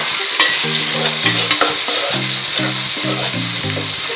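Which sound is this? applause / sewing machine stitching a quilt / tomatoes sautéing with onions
tomatoes sautéing with onions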